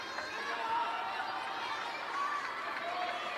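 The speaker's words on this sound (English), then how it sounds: "A huge crowd gathered in the wonderful Lusail Sports Arena." Large crowd murmuring in the Lusail Sports Arena at a table tennis semifinal, a steady distant wash of chatter and movement without clear applause or individual voices.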